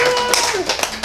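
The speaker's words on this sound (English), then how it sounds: "That's my first clap." Bare hands clap sharply a few times during a calisthenics human flag workshop, crisp close slaps mixed with brief talk and body movement.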